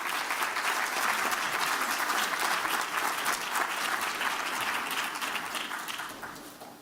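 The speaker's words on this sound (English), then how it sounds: "One more big round of applause for all of those who are being honored." Audience applause for award honorees at an educational leadership summit, a dense, steady round of many hands clapping that holds strong before tapering off toward the end.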